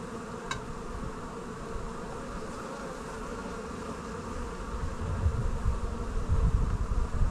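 Honeybees buzz around an open hive during a Taranov split, a steady close droning hum that grows louder and thicker toward the end.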